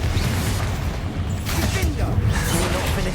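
Confringo fire spell blasts in Hogwarts Legacy combat, with bursts of crackling, whooshing impact noise over a rumbling low bed and clanking battle effects, busy and loud.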